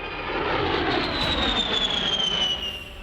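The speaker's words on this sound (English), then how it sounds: "This is the A-10 Thunderbolt II" An A-10 Thunderbolt II jet flies by with a loud, continuous roar and a high, whining engine tone that slowly falls in pitch as it passes.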